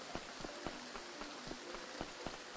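Rain pours in the video game Graveyard Keeper as a faint, steady patter with soft, regularly spaced drips, heard alone without talk.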